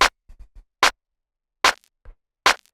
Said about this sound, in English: Now this clap, dry, sounds like this.